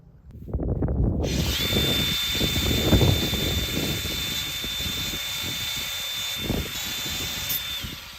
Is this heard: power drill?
yes